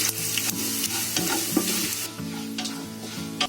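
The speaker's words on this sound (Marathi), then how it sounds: "आपल्याला तेलामध्ये आता भाजून काढायचे आहे." Whole spices, including coriander, poppy seeds, cumin, cinnamon, cloves and black pepper, roasting in oil. A close, steady sizzle with brief stirring sounds continues for a few seconds, joined by a low tonal background hum, with no speech.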